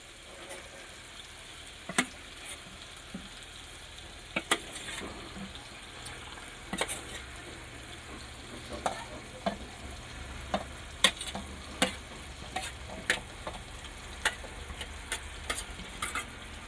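Potatoes going into simmering, fully cooked gravy in a pan for a Gujarati spiced potato dish, giving soft stirring scrapes and a low sizzle with scattered sharp clinks of a spoon against the pot, fairly quiet throughout.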